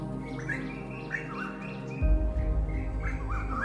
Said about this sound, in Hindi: एक चिड़िया की आवाज सुनाई देती है।